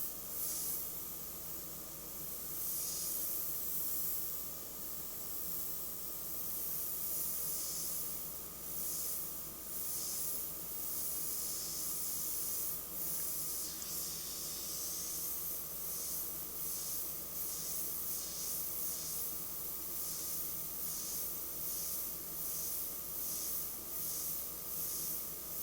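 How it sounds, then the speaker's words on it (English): A black and grey airbrush sprays paint onto a leather saddlebag, producing a steady, continuous close hiss of air that runs unbroken throughout with no talking. "You can see how nicely this color is spraying."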